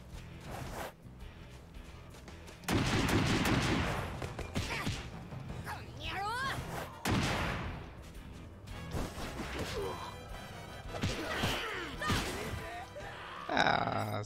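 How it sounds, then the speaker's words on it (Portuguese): Bursts of gunfire in One Piece World Seeker, a PC open-world game, come in loud, broad crashes, with harder hits and groaning effects in between. "Quem tá atirando em mim?"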